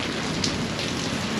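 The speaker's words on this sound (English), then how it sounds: "Now this has been quite a rainstorm." Heavy rain pours down steadily during a Kansas rainstorm, a dense, continuous hiss of drops striking surfaces close by with no voices.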